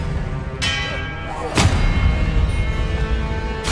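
An Expelliarmus spell cast in Hogwarts Legacy: two sharp magical bursts ring out with metallic shimmer, the second louder, over a steady low game backdrop.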